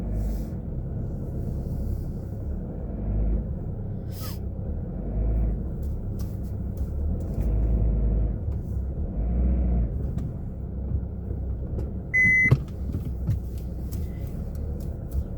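Car driving along a road, a steady low rumble of engine and tyres close by with bumps and rattles from the cabin, a brief sharp click near the end.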